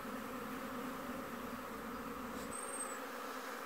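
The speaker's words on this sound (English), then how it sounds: "Just listening to the sound of the bees" Steady, continuous insect buzzing fills the clip, a dense low drone like bees hovering nearby, with no voices.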